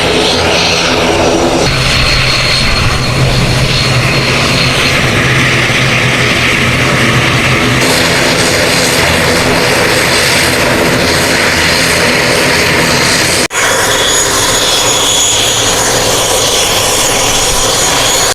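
An airplane flying in to land at Jaffna: a loud, continuous engine roar with propeller and jet tones holds close and steady for the full stretch, changing character abruptly near the end.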